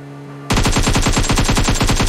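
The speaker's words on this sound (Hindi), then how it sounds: "कर दे सारी गोलियां खत्म कर दे यार" Rapid automatic gunfire bursts out suddenly in PUBG Mobile, a loud, close, continuous stream of shots after half a second of quiet.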